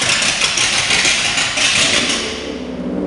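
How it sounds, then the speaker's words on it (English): A 1947 flathead V8 running with no mufflers, a loud, raw, continuous exhaust rumble and roar at a car cruise-in, close by and steady before easing slightly at the end. "Quite the rumble. Need no stinking mufflers."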